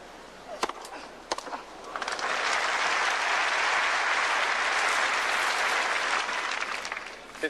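A crowd applauds at the 1979 Australian Open tennis final, Vilas against Sadri. A few scattered claps swell into sustained, even applause that holds for several seconds before tapering off, heard from within the stadium.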